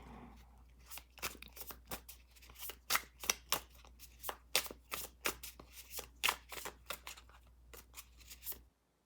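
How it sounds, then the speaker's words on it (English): Rapid, crisp shuffling of tarot cards with repeated papery riffles and snaps in quick bursts, close up and fairly loud, ending abruptly. "I know I'm shuffling like really crazy"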